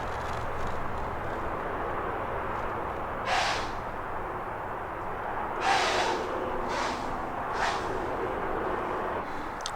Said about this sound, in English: it sounded like an animal sneezing.